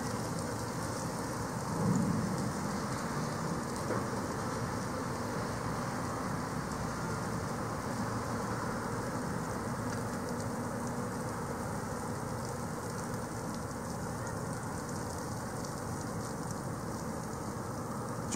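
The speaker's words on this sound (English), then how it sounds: "and it is now raining." Steady rainfall, a dense continuous patter with a low rumbling background, no voices.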